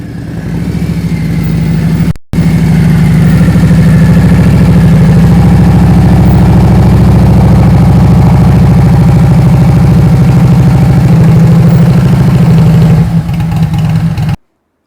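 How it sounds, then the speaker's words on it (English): A 2023 Harley-Davidson CVO Road Glide with Tab Performance .50 cal slip-on exhausts idles loud and close, a steady deep rumble with a brief cut near the start, running alone without talk. "I love the way tap performance pipes sound."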